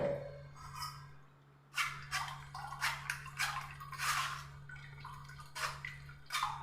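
Water splashes into a mixer jar while making an Indian gooseberry (amla) preparation, in a few soft, irregular bursts of pouring and dribbling over a low steady hum, fairly quiet and close.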